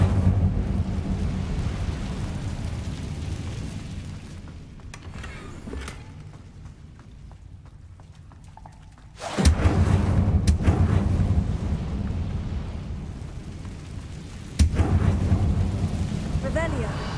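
In Hogwarts Legacy, an Incendio fire spell erupts in a loud roaring burst that swells suddenly, with a second whooshing blast following a few seconds later over a rumbling low background.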